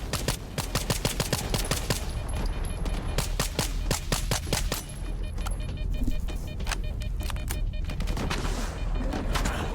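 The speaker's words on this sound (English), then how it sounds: "You made me get the paintball gun out" Rapid bursts of paintball gun fire in a video game, a dense stream of sharp pops with short pauses between volleys, loud and close over steady game background noise.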